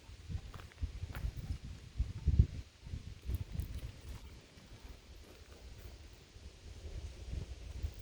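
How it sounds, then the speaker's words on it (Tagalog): Low, gusty wind buffets the microphone, rumbling unevenly with a few stronger gusts and faint rustling in the background. "Mahangin dito ngayon."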